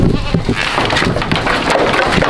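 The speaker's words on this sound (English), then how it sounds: "So let me get the goats fed." Farm goats bleat loudly and close at feeding time, their overlapping cries filling a dense, noisy barnyard with no clear talk.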